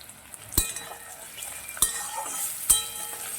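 Chunky diced onion with Kashmiri chili powder being stirred in a pan, three sharp spatula clanks at uneven intervals over a soft, steady sizzle.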